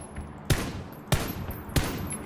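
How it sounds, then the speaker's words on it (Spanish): Three close gunshots from PUBG in a first-person match on the Savage map, spaced about half a second apart, each a sharp loud crack over steady ambient game noise. "Tiro y cercano, además."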